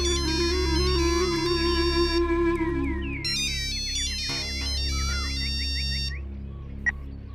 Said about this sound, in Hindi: फोन उठाने में डर लग रहा है क्या? इतना टाइम लगा दिया।